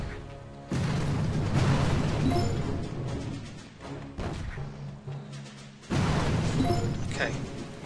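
Explosions destroying boom cannons in the mobile strategy game Boom Beach, a series of loud blasts and booms in bursts with brief lulls between, continuous and dense.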